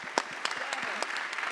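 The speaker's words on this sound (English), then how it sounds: "Let's give a round of applause for that." Scattered audience applause at a Global Citizen NOW sports-for-education session, a brief, faint patter of separate claps at moderate distance.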